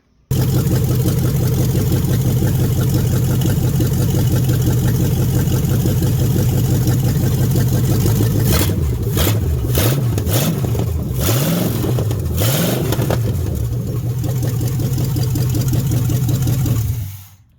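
A project car engine runs loud and close, holding a steady throbbing idle before several sharp revs rise and fall in the middle, then settles back to idle and cuts off at the end.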